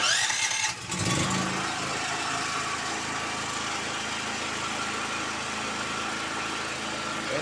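An automatic generator set cranks with a brief rough burst, then catches and settles into a steady, even engine drone that runs on alone.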